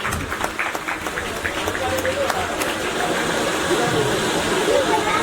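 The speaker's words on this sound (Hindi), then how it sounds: "ताली बजाइए भाई मेरे" Crowd clapping at a Teachers' Day event, a continuous rushing patter of many hands that stays fairly loud and even, with some voices mixed underneath.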